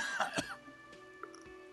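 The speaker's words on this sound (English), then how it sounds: "The aging cryptozoologist breaks into a hideous coughing fit." An aging cryptozoologist's hideous coughing fit in the video game Disco Elysium: a couple of harsh, close coughs followed by a rasping throat-clearing, heard alone over quiet ambience.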